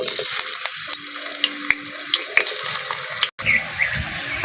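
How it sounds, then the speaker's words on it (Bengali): Sliced potatoes dropped into hot mustard oil give a close, bright crackling sizzle with small spattering pops, steady for several seconds with a brief gap near the end. "তেলটা গরম হয়ে গেছে আলুগুলো দিয়ে দেবো"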